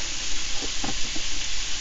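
Breaded pickerel fillets sizzle in a pan of onions, a steady loud hiss of frying with a few soft stirring scrapes and bumps in the middle, with no one speaking.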